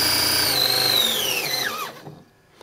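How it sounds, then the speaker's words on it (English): A vintage sewing machine driven at max speed by a DIY BLDC motor: a high whining motor tone that holds, then slides downward as the machine spins down to near quiet, close and alone with no talk. "And now I go up to max speed. This is max speed."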